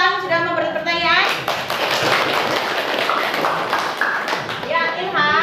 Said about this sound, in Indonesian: Tepuk tangan untuk Ilham sudah memberi pertanyaan